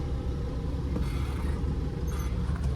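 A van rolls into a museum parking lot in Bangalore, giving a continuous, fairly loud low engine rumble with no voices.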